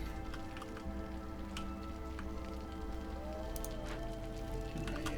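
Drizzle falls in the video game Against the Storm as a soft, continuous patter of raindrops. The rain stays quiet and even throughout and sits behind a low ambient music bed.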